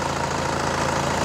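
Steady idle of a 2011 Toyota Kijang Innova diesel engine, a low even rumble with a regular pulsing beat, close and constant throughout with no voices.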